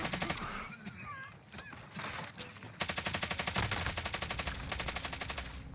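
Gunfire in the video game Warzone: rapid automatic bursts of loud shots, stuttering at first and then a sustained rattling volley, mixed with other game sounds.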